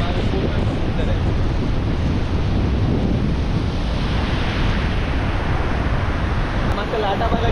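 Strong sea waves break and surge continuously on Diveagar beach in the Konkan, a loud, dense roar of surf mixed with heavy wind buffeting the microphone.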